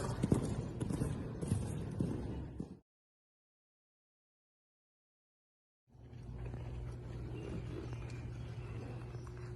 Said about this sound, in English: Hannah is gonna do a cross rail with Dazzle. And she's gonna come around and do a flower box and gait.